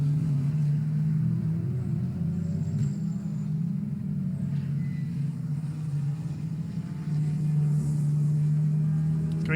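Race cars on track at Oulton Park: a continuous low engine rumble that rises and falls slightly, heard steadily throughout without talk.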